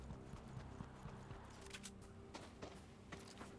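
Faint footsteps of a computer-controlled character in Fortnite tap in a quick, steady rhythm, quiet and somewhat distant throughout.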